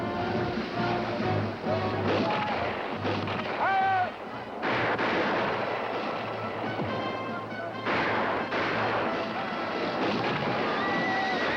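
Musket volley in a battle scene from the Swamp Fox, with repeated crackling shots blending into a loud, continuous din of gunfire and noise.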